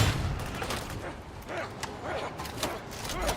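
Rapid, dense gunfire from the Vermintide video game, a steady clatter of shots running through the whole stretch with a few sharper bangs standing out.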